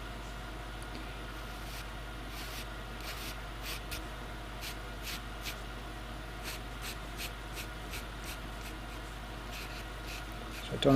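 Pastel pencils drawing on Pastelmat paper, faint repeated scratchy strokes in uneven bursts over a quiet steady background hum, close to the microphone and without talk.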